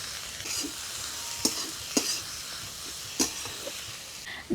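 Radish greens stir-fried in a pan with turmeric, giving a steady hiss of frying with several sharp scrapes and clacks of the stirring utensil, close and fairly loud with no talk.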